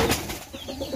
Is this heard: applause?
no